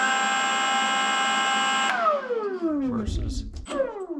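A Milwaukee M18 Fuel battery leaf blower whines at low RPM with a steady high motor tone, then winds down in a falling pitch, while someone speaks over the spin-down.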